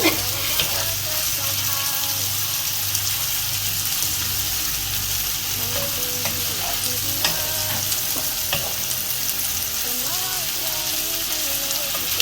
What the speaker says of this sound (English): I will let it cook until the sausages are ready.